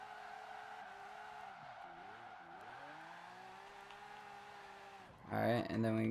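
Tires squeal in a long, wavering skid as a supercar converted into a drift car spins out in Forza Horizon 4, engine droning steadily beneath, then a burst of louder noise closes it.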